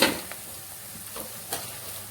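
Semolina (rava) roasting in oil in a pan for rava idli, heard as a faint, even frying hiss with a handful of light stirring scrapes and taps, and no voices.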